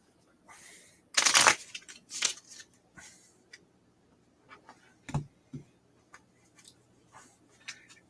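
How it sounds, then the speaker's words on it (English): A large deck of cards for the board game Atlantis Rising is shuffled by hand in halves, with a sharp riffle burst early on, followed by quieter scattered card flicks and taps, close and otherwise quiet. "The deck is just too big to shuffle."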